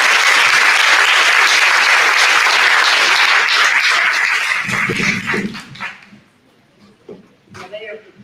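Audience at a community day of unity and prayer giving a round of applause, loud, dense clapping that fades out midway, leaving quieter sounds and a brief voice at the end.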